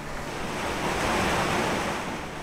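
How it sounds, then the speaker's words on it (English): Broad, booming rush of water pouring down through holes in the rocks of a spectacular Owyhee canyon in Idaho, a steady roar swelling slightly midway and continuing unbroken, with no talk. "The whole canyon is booming with the water coming down through the holes in the rocks."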